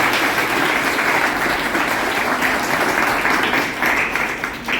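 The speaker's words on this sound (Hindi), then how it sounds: "आप लोग अब अपने लिए ताली बजाओ।" Students at a gurukul school event applaud together in steady, dense clapping that fills the room, loud and unbroken for the whole stretch.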